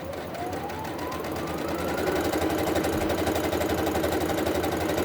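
A sewing machine runs steadily while stitching a pocket pillow, its fast rhythmic needle chatter close and even, rising slightly in speed and loudness partway through; no talking.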